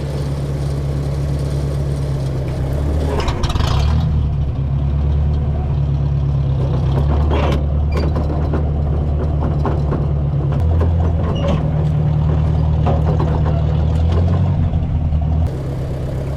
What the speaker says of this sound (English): hit the starter. Starts right up. Go in first gear.